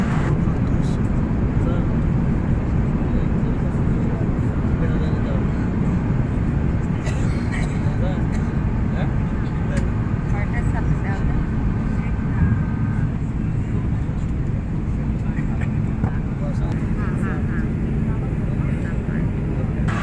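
Steady, loud low roar of an airliner cabin cruising at about 36,000 feet on a flight from Dhaka to Jeddah, constant and enveloping throughout, with faint scattered cabin sounds.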